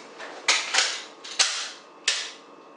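Glock pistol shots at an outdoor shooting range in Plovdiv, four sharp cracks spaced irregularly over a few seconds, each with a brief ringing tail, fairly close with no talking.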